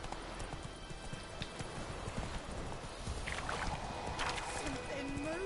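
Galloping horse in The Witcher 3 video game, steady rapid hoofbeats under a continuous wash of game ambience, with a brief voice and a rising tone near the end.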